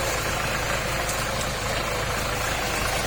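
Kubota L5018 tractor engine running outdoors, a steady loud rumble with knocking mixed into broad noise, constant throughout with no talking.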